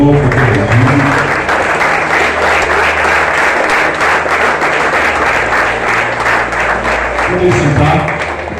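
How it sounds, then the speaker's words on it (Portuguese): A church congregation applauds steadily and loudly at a Sunday worship service, dense clapping filling the space for several seconds with faint voices mixed in underneath. "Vamos aplaudir o Senhor por Jesus."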